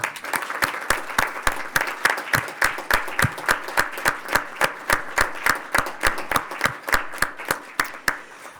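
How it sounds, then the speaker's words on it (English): At a township council meeting, a small audience claps in a steady, clearly separated rhythm, each individual clap distinct and fairly close, continuing for about eight seconds. "So I'd just like to give you a round of applause right now."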